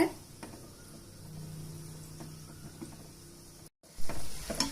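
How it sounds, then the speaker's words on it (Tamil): Gulab jamun dumplings fry in hot oil while being gently turned, giving a soft continuous sizzle with faint stirring scrapes, a brief dropout, then a louder burst of bubbling. "பாருங்க எல்லா பக்கமும் ஈவனாக ஃப்ரை ஆகிற அளவு இதை கொஞ்சம் நீங்கள் திருப்பி விட்டுக்கோங்க"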